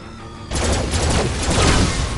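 Gunfire in the shooter Farpoint, a sudden loud burst of dense, crackling shots that breaks in abruptly and keeps roaring steadily to the end.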